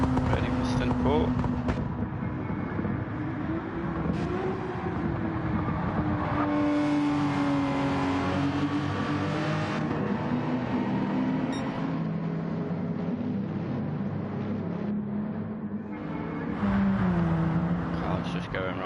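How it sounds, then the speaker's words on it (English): Race car lapping the Nürburgring in a racing video game during a 12-hour endurance event in wet conditions, a continuous loud engine whine shifting in pitch with gear changes, with someone talking over it. "Car's just going round."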